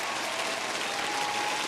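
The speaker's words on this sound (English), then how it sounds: "Yes, round of applause." Applause from a small group greeting newly arrived merchandise, a steady dense patter of clapping with no talk over it.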